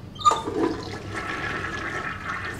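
A toilet flushes in the video game Heavy Rain, starting with a sharp click of the handle, then a swirling rush of water that settles into a steady refilling hiss, heard up close with no talking.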